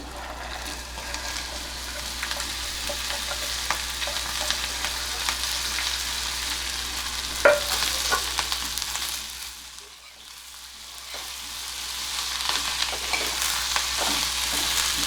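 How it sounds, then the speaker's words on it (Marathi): French beans with asafoetida frying in a pan, a continuous close sizzle with scattered stirring clicks, dipping briefly before swelling again, no talk. "हिंग आता याच्यामध्ये ही परसबी घालते मी"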